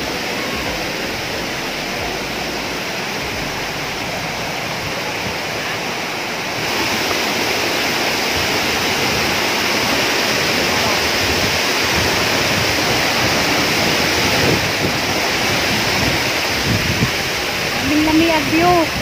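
Tumalog Falls waterfall pours with a broad, steady rushing roar that swells louder partway through and holds as constant white-noise wash throughout, with no talking.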